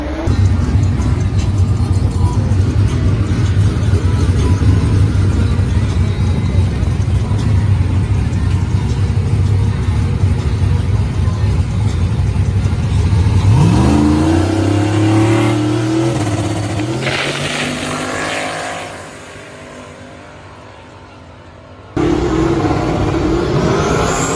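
A loud turbocharged drag car engine idles and rumbles heavily at the starting line, then roars as the car launches, pitch climbing through shifts before fading into the distance.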